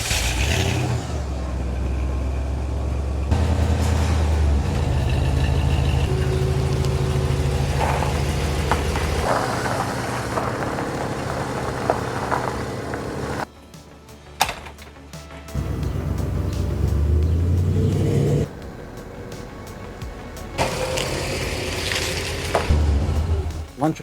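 A car engine that has just had its ignition timing set runs while the car is driven, giving a steady, loud rumble and road noise that dips briefly midway and then resumes.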